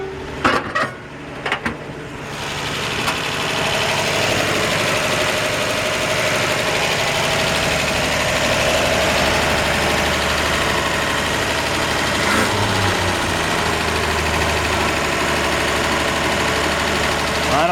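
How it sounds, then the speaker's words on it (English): A 1950 Chevrolet 3100 engine with a brand new carburetor idles steadily and loudly at close range, a fast idle that runs without a break after a few brief knocks at the start. "You can really hear how healthy that engine is."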